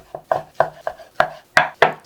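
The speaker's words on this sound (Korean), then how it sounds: "고기를 썰어 주도록 할게요." Boiled pork suyuk being sliced on a cutting board: seven crisp knife knocks in a steady rhythm, close and clear, with no talk.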